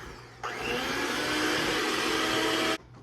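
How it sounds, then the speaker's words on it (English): An electric hand mixer beating thick icebox cake batter starts abruptly, whirs at a steady loud pitch for just over two seconds, then cuts off. "we'll get our hand mixer and we'll begin to mix it right up."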